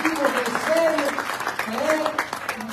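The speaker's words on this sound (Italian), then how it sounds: "e facciamo un applauso" An audience at a regional political assembly in Sicily applauds steadily throughout, a dense wash of clapping heard with a voice speaking over it.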